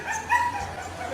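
A dog barking and yipping inside a video being played back, its sharp high yelps coming through moderately loud over a faint background for about a second.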